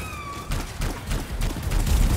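Powerful gunfire from the video game Anthem arrives as a rapid run of loud, booming shots after a short electronic tone, continuing in an uneven burst through to the end.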